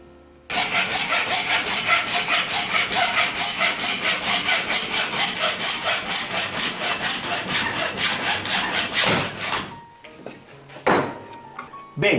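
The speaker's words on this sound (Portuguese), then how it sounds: "estou colocando aqui a serra na direção de onde eu vou cortar" Hand saw cutting wood for a desk lamp project, a close, loud run of steady rhythmic back-and-forth strokes that ends abruptly, followed by a few scattered knocks and handling sounds.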